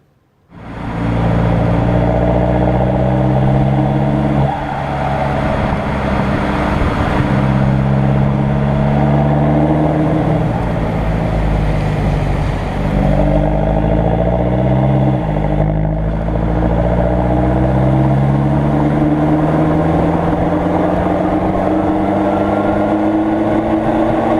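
A Volkswagen TDI diesel car engine idling and running steadily, a close, constant low rumble with a few slight shifts in pitch as it revs, heard alone throughout.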